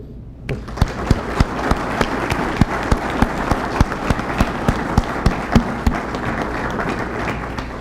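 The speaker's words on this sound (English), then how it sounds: "let's give a big round of applause to this administration for coming up and giving us these grants" Audience at a state green communities grant awards ceremony breaking into applause, a dense wash of clapping with a regular thumping beat of rhythmic claps or stomps running through it, fairly loud and sustained.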